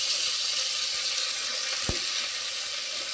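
Chopped tomatoes sizzle and fry in a hot pan of oil for mushroom biryani, giving a steady, close, bright crackling hiss with one brief sharper pop partway through.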